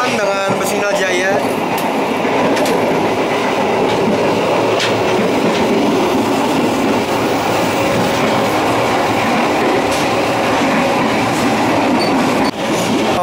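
The Bengawan passenger train runs on rails between Jakarta and Yogyakarta with a loud, steady, close rumble and a continuous clatter of wheels over the track, unbroken for the whole stretch.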